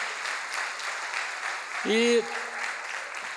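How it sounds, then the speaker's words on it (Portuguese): A church congregation at a temple anniversary service applauds in a steady, soft wash of clapping heard from across the room, with a brief sung or spoken voice rising over it midway. "Queria que a igreja aplaudisse a igreja de Nova Aurora"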